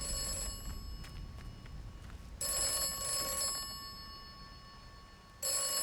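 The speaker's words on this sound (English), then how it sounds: "the ringing fucking phone" An old-style telephone rings in the video game Atomfall, with bursts of bright bell ringing separated by pauses amid a quiet ambient background, and no talk.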